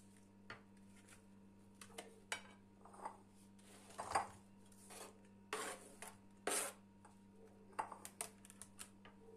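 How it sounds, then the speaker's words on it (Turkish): Knife cutting red cabbage into small pieces for jar pickles, a series of sharp irregular crunching strokes close by over a steady low hum, no talking. "Kırmızı lahanamı da yine normal bir küçüklükte doğruyorum."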